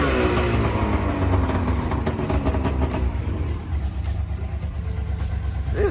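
A 1971 Ford F250 engine idles roughly and steadily up close, its exhaust leak adding a loud, continuous rasping chuff over the low rumble throughout.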